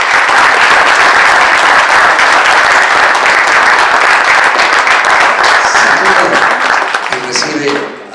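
Loud, dense audience applause for a guest at a formal civic event on the Mexican Constitution of 1917, sustained steadily for about seven seconds before thinning out near the end.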